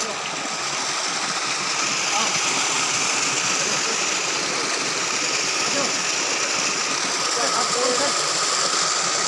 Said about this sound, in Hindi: इस तरह कल कल करते हुए ये पानी स्वच्छ ऐसा लग रहा है